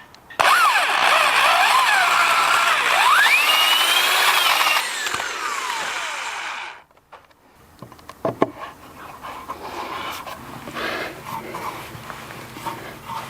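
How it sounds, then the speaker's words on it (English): A power drill whines loudly and steadily for several seconds, drilling into a wooden gate post, its pitch shifting under load, then stops, followed by quieter clicks and handling noises. "I'm only going to drill a hole as deep as the drill bit"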